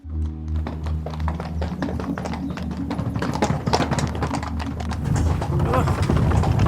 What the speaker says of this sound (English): Horses are only just walking,